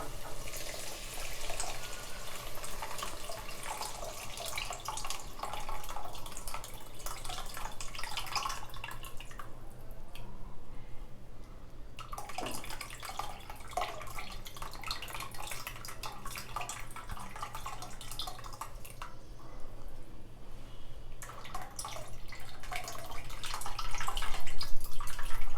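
Tamarind water is poured into a simmering Nellore-style fish curry pot, producing a long, steady, close trickling and splashing of liquid that swells louder toward the end, with no talking.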